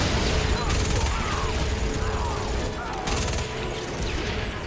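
Automated turrets in the video game Starhawk fire at enemies in rapid bursts of gunfire, loud and dense, over a busy battle soundscape.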